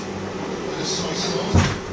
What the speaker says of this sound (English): I just had to close the door, my wife's watching telly.